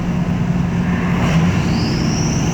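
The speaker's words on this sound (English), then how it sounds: "The spool is absurdly loud." Steady vehicle drone from a truck with a 6.0 engine, with a rising high-pitched turbo spool whistle climbing near the end; no voices.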